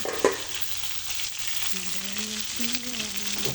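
Fish frying in a pan, a soft continuous sizzle with a small clatter near the start and faint tonal background sounds, quiet and close.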